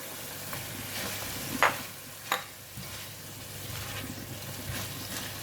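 Pork belly and bitter gourd stir-fried in black bean sauce, a steady soft sizzle with a few sharper scrapes and clacks of the spatula against the pan, no voices.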